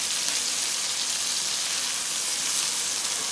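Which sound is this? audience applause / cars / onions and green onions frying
onions and green onions frying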